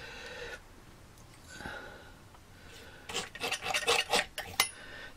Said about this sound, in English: This is just palette scrapings here.